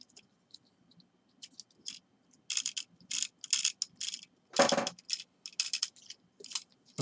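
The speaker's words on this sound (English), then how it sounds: "It's got a soft ratchet" A soft ratchet joint in the leg of a 2015 Transformers Robots in Disguise Warrior Class Grimlock plastic toy, close and fairly faint, giving irregular bursts of small clicks as the limb is moved.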